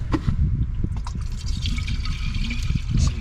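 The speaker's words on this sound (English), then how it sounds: "Some good looking water going in there." Water glugs and splashes steadily as it is poured from a tub into the coolant system of a Corsa C car engine, a continuous close liquid gurgle with small drips and sloshes throughout, no talking.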